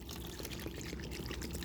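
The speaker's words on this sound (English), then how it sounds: "Then I'm going to go in with that whole bottle of water." A whole bottle of water pours into crockpot Italian meatball soup with carrots, a steady soft glugging stream nearby, faint and continuous throughout.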